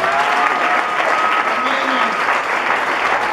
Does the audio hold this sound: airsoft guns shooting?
no